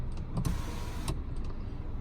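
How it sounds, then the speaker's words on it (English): Electric motor of a 2019 Mini Cooper Countryman panoramic sunroof whirs briefly as the roof opens inside the car, with faint clicks at the start and stop, no talking. "it has a panoramic sunroof, which is very nice in a small car. And then here is how you open it."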